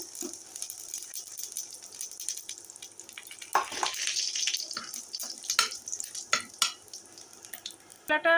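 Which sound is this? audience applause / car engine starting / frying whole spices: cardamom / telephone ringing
frying whole spices: cardamom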